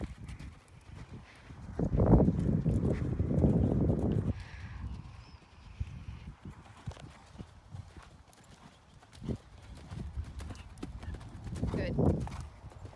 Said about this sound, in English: Don't let the canter get faster.